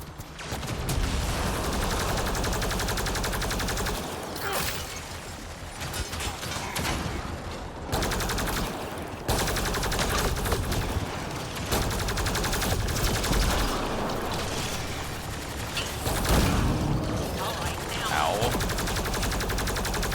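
Rapid bursts of automatic turret gunfire from the video game Mass Effect Andromeda rattle almost continuously, loud and dense, with mechanical clatter and a voice talking over the shooting.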